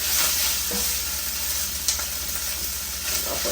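Sausages pop and sizzle in a single pot, a steady close frying hiss with a few sharp crackles breaking through. No one speaks.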